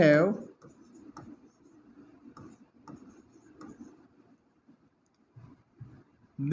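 A pen or marker writes a maths definition by hand during a Hindi-language lesson, with faint, intermittent scratchy strokes and taps after a brief spoken phrase at the start.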